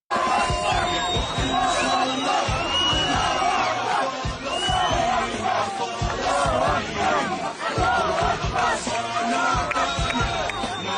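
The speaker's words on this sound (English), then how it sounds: "They're cheering his name in Gaza." A dense crowd in Gaza shouts and cheers Donald Trump's name, loud and continuous with rhythmic chanting and raised voices throughout.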